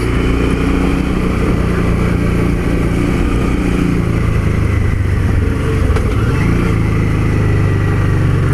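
Motorcycle engine during a ride through a tight corner, a loud steady drone with wind rumble and a slight pitch change toward the end, heard close from the rider's position.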